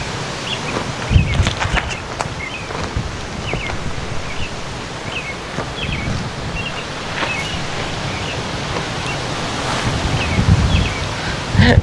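Strong gusting wind at a hillside campsite at Splendor Hills, Tanauan, Batangas, roaring steadily into the microphone with louder buffeting swells and rustling, no talk, sustained for the whole stretch.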